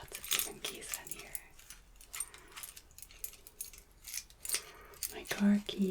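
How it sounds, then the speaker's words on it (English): A keyring holding car keys, house keys and assorted others jangles in scattered bursts of close, crisp metallic clinking, with soft talking heard between the rattles. "My car keys, my house keys, some other random keys."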